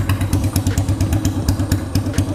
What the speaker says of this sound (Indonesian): suara knalpot pendek free flow, suaranya tuh enak banget,